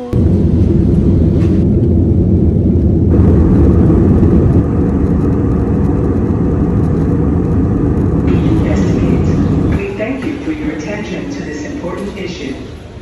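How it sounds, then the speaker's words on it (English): Busy airport terminal ambience while walking through, with a steady broadband rumble of crowd, machinery and air handling that thins out toward the end; no clear speech stands out. "we are walking through the airport"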